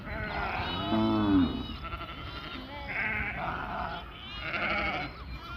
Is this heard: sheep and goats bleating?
yes